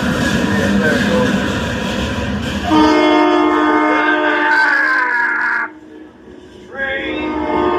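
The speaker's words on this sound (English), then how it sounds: "Train." A train horn blares loud and sustained over a heavy rumbling rail roar, dips briefly near the end, then returns. Voices can be heard underneath.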